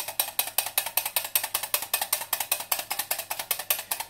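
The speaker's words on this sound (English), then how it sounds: "Whisking away, my arms are getting tired." Rapid rhythmic clicking of a whisk beating dalgona coffee by hand in a bowl, about four strokes per second, steady and close with no talk.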